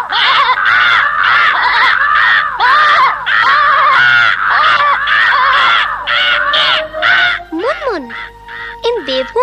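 Cartoon crows caw loudly in a rapid, repeated chorus of harsh squawks, followed by a few sliding whistle-like effects and scattered shorter calls near the end.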